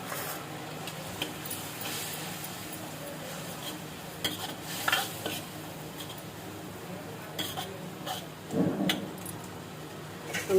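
Spices go into a hot pan in a home kitchen, then a spoon stirs and scrapes against metal under a soft, steady sizzle, with a few louder clanks and utensil knocks toward the end.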